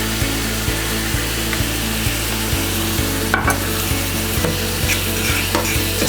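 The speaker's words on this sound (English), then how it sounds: "Just stir it around" Meat being stirred in a pan with LaChoy sweet and sour sauce, a steady sizzle and frying hiss with regular scraping strokes of a utensil against the pan, close and continuous.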